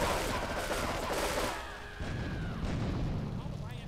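Heavy gunfire from Grand Theft Auto 3 rattles loudly in a dense burst that briefly drops off midway and then resumes, with voices mixed in.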